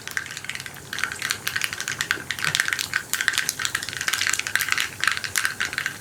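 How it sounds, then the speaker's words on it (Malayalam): Mustard seeds popping in hot coconut oil, a loud dense crackle of rapid, irregular pops that continues without a break for several seconds. "കടുകൊന്ന് പൊട്ടി തുടങ്ങട്ടെ."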